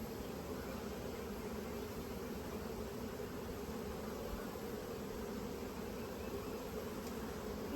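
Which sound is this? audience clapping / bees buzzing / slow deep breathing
bees buzzing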